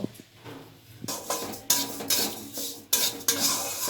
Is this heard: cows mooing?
no